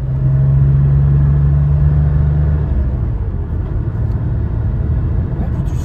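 A 1988 Porsche 911 engine hums and rumbles steadily from inside the car while driving, loud at first with a strong low tone that eases slightly after a few seconds.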